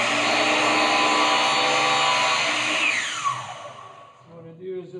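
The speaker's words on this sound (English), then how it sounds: "So compound miter saw, make sure that your materials are good pieces on the left side" A compound miter saw spins up and cuts a wooden piece to length, a loud, dense whirring whine that holds steady before the blade winds down and fades, with a few knocks as it stops.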